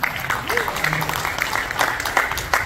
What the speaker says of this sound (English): They're all applauding with this like dazed questioning look on their face.